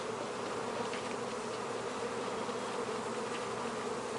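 Honey bees at an opened hive, with frames of capped honey being pulled for extraction, produce a continuous, even buzzing drone, quiet but unbroken throughout, with no speech.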